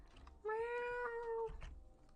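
A person imitates a cat with one drawn-out, tonal meow lasting about a second, close and clear, with faint keyboard tapping around it.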